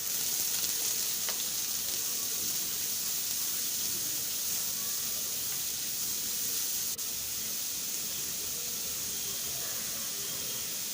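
Three finely chopped onions and a green chilli fry for a soya bean roast, an even, loud hiss of sizzling oil holding steady throughout with a single faint click midway.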